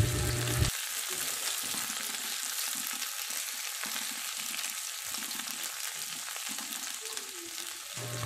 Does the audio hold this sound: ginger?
yes